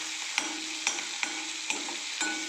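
Onion, curry leaves and coriander sautéing over medium heat in a pan for phodnichi poli, a steady sizzle broken by several regular scraping stirs of the spatula, close and alone.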